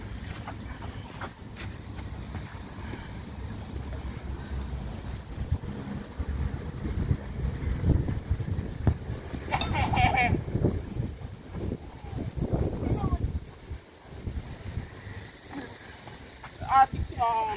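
Strong wind blowing outdoors on a football pitch, buffeting the microphone with a continuous low rumble that swells and fades, while people talk and call out.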